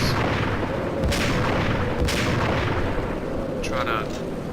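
Sniper rifle shots in the Max Payne video game, about three sharp reports spaced roughly a second apart, loud over a constant dense background roar of battle and machinery.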